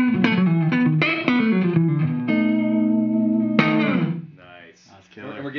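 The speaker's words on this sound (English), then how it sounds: "If you want some reverb, it's in." Electric guitar chords through a dual tap delay pedal's reverb ring out with a washy tail, each strum blooming and decaying into a spacious echo before the sound thins out.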